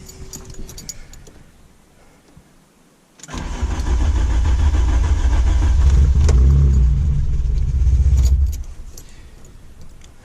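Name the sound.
Volkswagen Golf 2 GTI 16V engine first start, low idle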